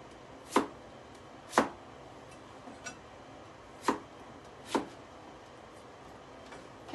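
A knife cuts rutabaga into bite-size cubes on a cutting board, giving five sharp, close chops spaced about a second apart against a quiet kitchen background.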